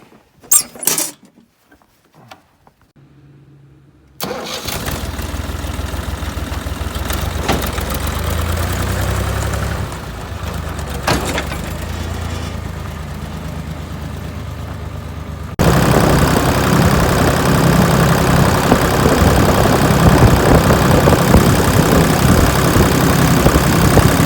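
A homemade tractor-driven branch chipper shreds willow branches into wood chips, a loud steady engine roar with grinding and knocking, building up after a quiet start and growing louder and denser in the last stretch.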